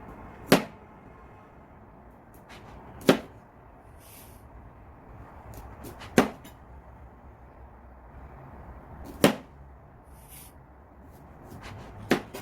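Five sharp, isolated knife strikes cutting carrots on a cutting board, spaced slowly and unevenly with quiet pauses between each chop.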